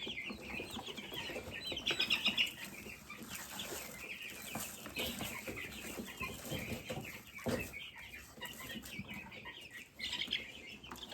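Meat chickens on a homestead cluck and chatter continuously at close range, with brief bursts of wing flapping, and no one speaking.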